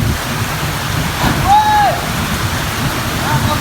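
Heavy rain pours down steadily outdoors during a game of football, a constant wash of hiss. A brief whistle-like tone rises and falls once through the middle.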